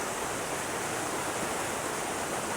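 Water from Little Creek rushes steadily at a trail crossing in the 100 Mile Wilderness on the Appalachian Trail, a close, constant broadband roar with no pauses.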